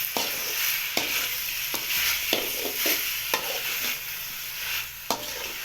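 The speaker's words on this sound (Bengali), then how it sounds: "ভালো করে কষে নেওয়া হবে।" Chicken curry masala with salt is stir-fried in a pan, giving a low steady sizzle punctuated by regular sharp spatula knocks and scrapes against the metal, close and without talk.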